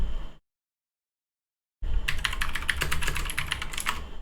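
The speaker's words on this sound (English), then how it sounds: "Does it pick up my typing?" A brief burst of noise, then a pause of silence, followed by rapid, steady clicking of computer keyboard typing up close.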